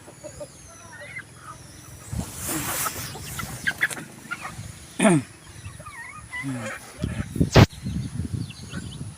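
Young chickens (pullets) cluck and squawk intermittently outdoors, with scattered bird calls and a few sharp sounds against quiet background noise.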